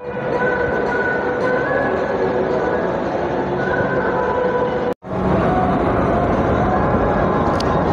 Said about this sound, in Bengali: চলে এসেছে আমাদের মেট্রো।